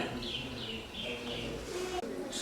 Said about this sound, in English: You may be able to notice this bird here. Not sure what kind it is. Some kind of a marsh bird.